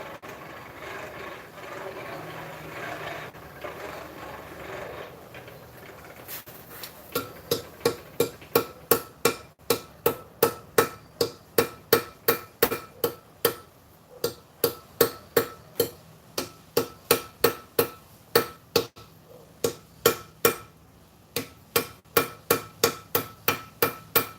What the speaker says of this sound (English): Going for another tap, tap, tap on this forge weld.